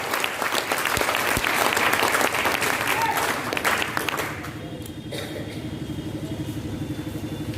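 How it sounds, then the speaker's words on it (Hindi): A hall audience at a private schools association annual function in a town hall breaks into loud, dense applause welcoming a guest, the clapping lasting about four seconds before dropping away into quieter room noise. "एक जोरदार ताली से उनका स्वागत करें"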